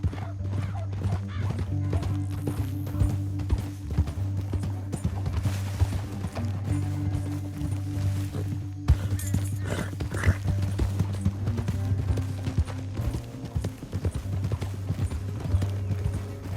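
Horse hooves galloping in Red Dead Redemption 2, a steady rapid clip-clop close up with occasional whinnies, running continuously under a low rumbling background.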